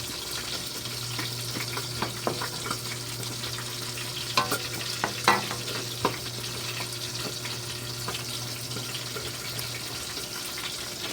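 Vegetables fry in a pan with a constant low sizzle while a utensil stirs and scrapes, giving a few sharp clanks and scrapes near the middle, all close and with no talking.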